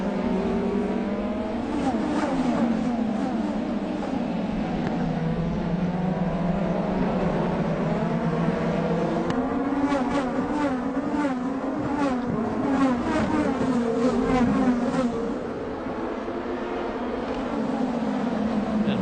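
IndyCar race cars scream through the gears at a restart, a dense, continuous roar of several engines rising in pitch together, loud and sustained with no voices over it.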